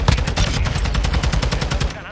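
A rapid automatic burst from a TAQ-56 rifle in Call of Duty: Modern Warfare II hammers out in an even, fast rhythm, loud and close, with a voice speaking under the shots.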